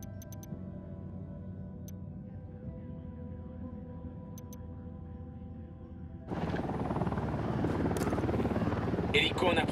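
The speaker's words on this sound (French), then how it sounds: "Hélico en approche." A helicopter approaches in the open-world video game Ghost Recon Wildlands: a low rotor drone hums under faint ticks, then swells abruptly into a louder, broader whooshing roar as the craft draws near.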